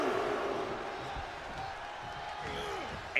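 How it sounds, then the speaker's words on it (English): A wrestling arena crowd roars and cheers as a steady, dense wall of noise, under a commentator's speech. "The sound of this crowd is deafening,"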